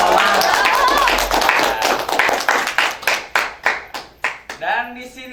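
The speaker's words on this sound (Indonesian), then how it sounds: "Tepuk tangan dong." Hands clap for a student host at a school talk event with Paskibra and Pasbara. A talking voice opens it, then distinct, rhythmic claps grow louder and sparser toward the end.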